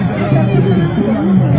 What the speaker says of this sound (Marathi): खूपच गर्दी आहे जिकडे तिकडे,